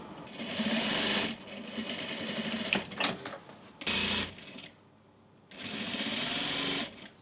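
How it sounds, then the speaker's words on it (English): Sewing machine stitching boning onto a wedding dress toile, close rapid mechanical whirring in bursts of a second or two, with a short quiet gap before a final run. "I like the function of sewing on the boning for a toile"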